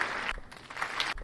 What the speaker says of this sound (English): I guess the audience is still clapping.